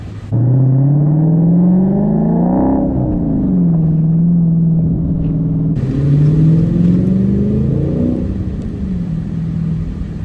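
Hemi V8 engine of a 2023 Dodge Challenger R/T Scat Pack Widebody revving, a deep rumbling exhaust note that climbs and falls through several surges, close and loud with no talking.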